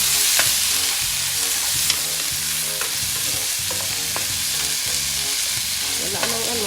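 Bitter gourd sautéed with tomato in a pan gives a loud, steady frying hiss with repeated light scraping and tapping of a spatula, close up and uninterrupted by voices.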